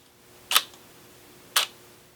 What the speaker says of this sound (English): So here's the shutter speed. Click, click. That means it was 1 second.